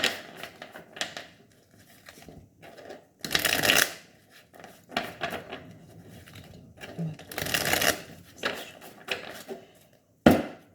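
Tarot cards shuffled by hand before a four-card reading, giving repeated papery riffling bursts with quieter handling rustles between them, close and fairly loud, broken by two stronger riffle flurries.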